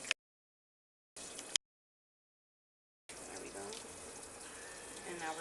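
Tap water runs steadily into a sink while food is rinsed in a home kitchen, coming in two brief bursts and then a longer continuous close-up flow.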